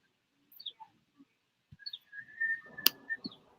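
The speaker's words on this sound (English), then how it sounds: "I hear birds chirping." Birds chirp outside an open window, with faint, scattered tweets and whistles at a distance, plus a brief soft knock and some low background noise.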